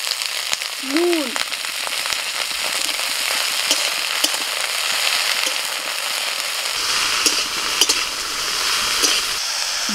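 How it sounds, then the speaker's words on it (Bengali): Broccoli florets fry in mustard oil with garlic, giving a steady, loud sizzle that crackles throughout, with a brief whistling tone near the start. "বকলি ভাজা হয়ে গেছে"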